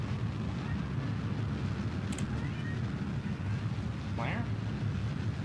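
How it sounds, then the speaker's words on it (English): A rocket's orbital-stage engine fires in Kerbal Space Program, giving a steady, dense low roar that holds evenly throughout, with a brief high chirp near the end. "And fire our orbital stage."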